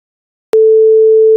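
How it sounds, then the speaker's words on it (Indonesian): A loud, steady 440 Hz sine tone generated in Python begins suddenly after half a second of silence and sustains evenly, a clean, unwavering hum with nothing else present. "suara sinyal berfrekuensi 440."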